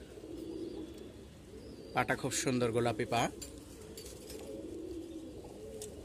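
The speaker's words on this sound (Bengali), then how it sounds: "এটা তো মূলত একটা বাঘা কবুতর, কালো বাঘা কবুতর" A black Bagha pigeon of the Amasha line coos softly and continuously in a low rolling murmur, while someone talks briefly over it in the middle.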